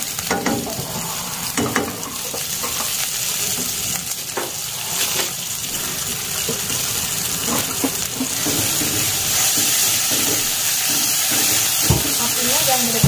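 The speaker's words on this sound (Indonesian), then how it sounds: "Tumis dulu bumbu yang sudah saya haluskan ya" Ground spice paste sizzling and crackling in hot oil over medium heat, with a spatula stirring and scraping now and then; a steady, close frying hiss throughout.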